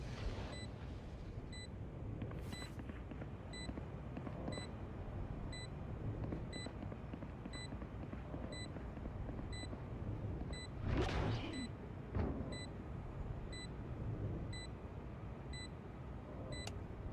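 Repeating electronic beeps from a planted spike in the tactical shooter Valorant, regular high pips ticking steadily over dense game noise, with a couple of louder bursts partway through.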